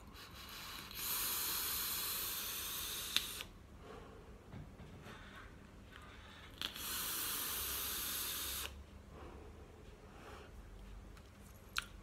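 Vapor from a Troll V2 e-cigarette atomizer with a Space Coil and cotton wick, heard as two long, steady hisses of about two and a half seconds each, separated by quiet pauses with small clicks.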